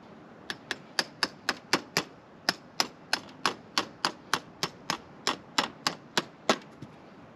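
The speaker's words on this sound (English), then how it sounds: "Gentle love taps, because this is a big old framing hammer." A big framing hammer taps garden landscape edging about twenty times in a quick, fairly steady rhythm, each blow sharp and close.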